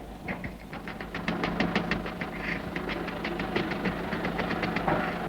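A small child imitates a train with the voice, a rapid run of rhythmic chugging puffs and bursts that speeds up steadily, close to the listener and fairly soft.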